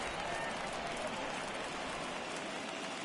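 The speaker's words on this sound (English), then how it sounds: "Crowd on its feet from the get-go here at Dodger Stadium." A video game crowd at Dodger Stadium roars steadily through a tied NLCS Game 5 between the Cubs and Dodgers, a dense, continuous wash of cheering with no pauses.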